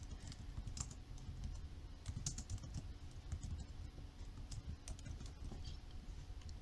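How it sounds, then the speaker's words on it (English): Computer keyboard typing while entering text for a PowerPoint Christmas card: quiet, rapid key clicks in irregular bursts, close and soft, with no talking. "So now I'm going to go in and type in Merry Christmas."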